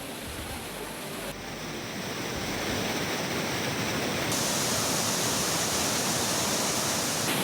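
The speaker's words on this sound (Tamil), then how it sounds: "தேனி மாவட்டம் கம்பம் அருகே உள்ள சுருளி அருவியில் ஆர்ப்பரித்து கொட்டும் வெள்ளம்" Flood water roaring down Suruli waterfall near Kambam in Theni district, a loud, continuous broadband rush of falling water that swells slightly partway through, with no voices.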